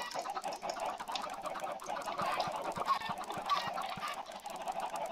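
Chickens in the Minecraft video game cluck and squawk in a busy, overlapping chatter that runs continuously at moderate loudness, with no speech.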